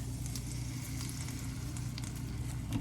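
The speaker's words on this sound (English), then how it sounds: "So I'm gonna take a ladle full, spoon it in the middle" Crepe batter sizzles in a buttered nonstick pan, a soft, steady crackle heard close up and unbroken by talk.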